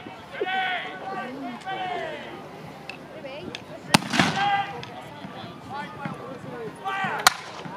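A few sharp musket shots crack out one at a time at a battle reenactment with French and British lines, each loud, brief and widely spaced, while people talk steadily over the scene.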